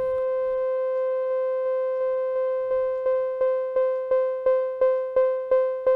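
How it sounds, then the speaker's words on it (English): A steady modular synth tone that starts smooth, then begins pulsing in a regular rhythm as an LFO modulates the amplifier, the volume chopping on and off faster and more sharply toward the end. "the LFO having an effect on the amp"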